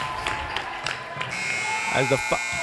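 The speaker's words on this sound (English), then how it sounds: "As the buzzer goes off" A buzzer sounds at halftime of a varsity high school basketball game in a gym, a steady electronic tone sustained over crowd noise, with a brief voice near the end.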